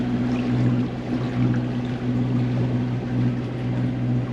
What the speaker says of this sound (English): As you can hear, we've got the motor going.